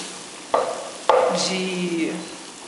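Onion and garlic browning in a pan for risotto, a close steady sizzle with two sharp stirring knocks and a bright scrape, while a voice talks over it.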